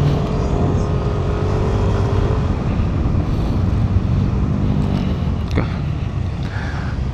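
A Yamaha Nmax V3 Standard scooter rides through a town market area with a steady, loud broadband engine and road rumble that runs the whole time, with a brief faint tone early on.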